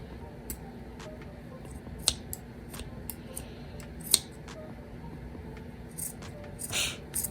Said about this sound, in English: So I'm just gonna cut around half of the patch.